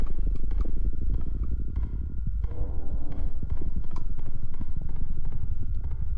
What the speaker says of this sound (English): I thought I could hear footsteps behind me.